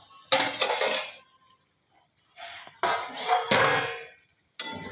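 A metal cooking pot lid being removed, heard as several sharp metallic clanks and scraping clatters in separate bursts with short silent gaps between them.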